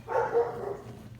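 A dog barks indoors in a short burst, one or two muffled barks at moderate distance, while a tow hitch is being installed on a Chevrolet/GMC/Cadillac vehicle.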